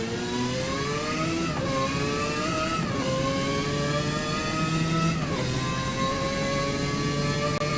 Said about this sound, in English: Let's get up to higher RPM and then do a downshift.